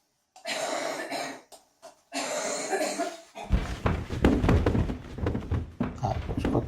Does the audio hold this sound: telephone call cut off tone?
no